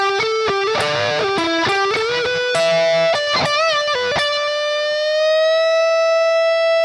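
An electric guitar lick from a solo, with bent, wavering notes, ending on one long sustained bend that rings out alone.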